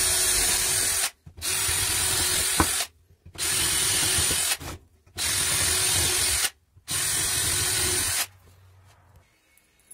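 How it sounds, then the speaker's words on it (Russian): A power drill bores holes into a 150 by 25 wooden board in four steady, high-pitched whirring runs of a second or two each, separated by short pauses, loud and close, then a quiet tail. "В доске 150 на 25 берем, делаем несколько отверстий."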